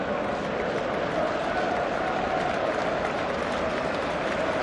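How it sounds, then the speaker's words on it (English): Stadium crowd at a Manchester City versus Sunderland football match applauding David Silva: a steady, dense wash of clapping from thousands of spectators, even and unbroken throughout. "warm applause for David Silva"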